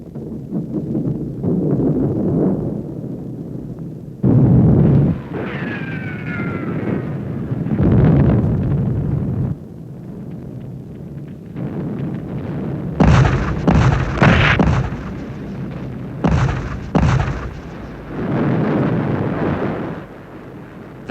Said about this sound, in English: The artillery was now shelling the very heart of Berlin.